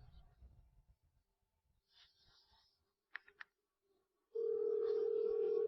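A telephone being dialed: a few short keypad beeps in a quiet room after soft breathing, followed by a loud steady tone.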